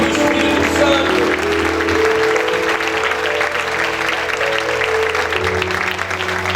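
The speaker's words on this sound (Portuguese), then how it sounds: "Dê uma salva de palmas calorosa para o Espírito Santo." Congregation at a worship service clapping in sustained, dense applause that fills the room at steady loudness, with a low musical drone or keyboard tone held underneath throughout.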